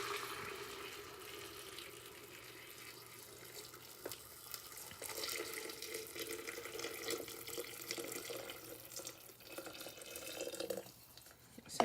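Vegetable stock pours steadily into a soup maker, a faint continuous splashing trickle with a few clinks and knocks, ending in a sharper clatter.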